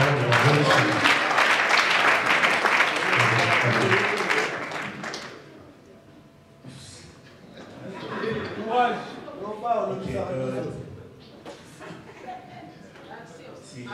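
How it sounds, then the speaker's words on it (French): Audience applause at an awards event, a dense burst of clapping for several seconds that fades out, followed by a voice talking over the room. "Sous nos applaudissements, bien évidemment."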